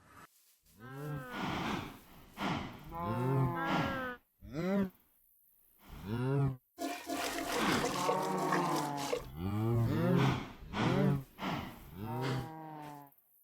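Cattle in Minecraft low repeatedly, a series of loud, close moos in a steady run with brief pauses between calls, heard alone.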